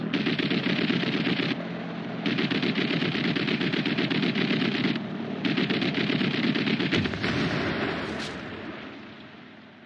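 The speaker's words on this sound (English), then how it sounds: "Spitfire pilot gets in a successful burst." Machine guns on a Supermarine Spitfire fighter fire long, loud, rapid bursts broken by short pauses, ending as the roar fades away.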